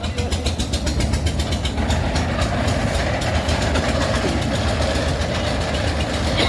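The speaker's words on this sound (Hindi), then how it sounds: "इंजन स्टार्ट हुआ है।" A Farmtrac 45 tractor engine running while pulling a trolley of boring equipment, a loud steady diesel chug with rhythmic clatter, close and continuous.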